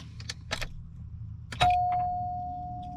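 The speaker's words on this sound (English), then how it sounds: "Wants me to fasten my seatbelt, so it's binging and bonging." Seatbelt warning chime in a 1979 Cadillac Deville, a single clear electronic tone that starts abruptly after a few clicks and key jingles, then rings steadily and slowly fades, close and alone.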